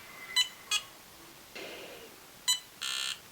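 Tria 4x at-home laser hair removal device giving short electronic beeps: two quick chirps, a softer tone, another chirp, then a longer buzzing tone, close and fairly quiet over low background hiss.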